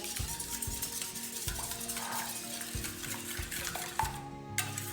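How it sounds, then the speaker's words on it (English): A whisk beats French toast egg mixture in a bowl with quick, rhythmic clicking and swishing strokes, close and moderately loud, with a couple of sharper knocks near the end and no speech. "now I'm gonna just take my whisk and start whisking it up together nice and easy"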